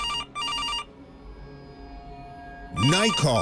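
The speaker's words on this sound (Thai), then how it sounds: "เสียงโทรศัพท์" A telephone rings in the horror video game Case: Animatronics, two quick bursts of bright electronic trilling, then a lull before a voice speaks.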